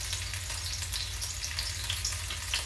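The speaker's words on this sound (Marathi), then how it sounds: "तेल जरा गरम होऊ द्यायचं. त्याच्यानंतर लसूण, त्याचबरोबर हिरवी मिरची," Garlic and green chili sizzle in hot oil in a pan, a steady close crackling fry with fine spitting bursts throughout and no talking.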